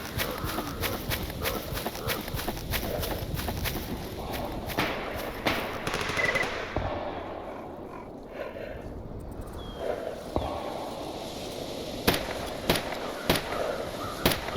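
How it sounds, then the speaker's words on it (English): Scattered gunshots crack out in a Stalker Anthology firefight, some sharp and fairly close, others fainter and farther off, sounding over steady background ambience with no talking. "I hear gunfire, but I'm not seeing where it's coming from."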